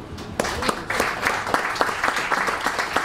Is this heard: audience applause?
yes